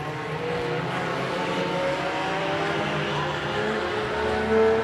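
Race cars roar around a dirt track during heat races, a steady dense wall of engine noise from several cars at once with a slight surge near the end.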